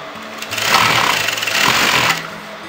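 Sewing machine stitching lace onto a kameez, a close, rapid mechanical whir and clatter that builds in, runs steadily for about a second and a half, then stops.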